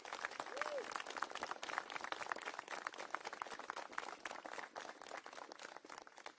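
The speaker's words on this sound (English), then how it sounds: "let's take a moment and pause and give a round of applause" An audience at a mayoral announcement gives a steady round of applause, dense rapid clapping at moderate distance that holds evenly throughout without a break.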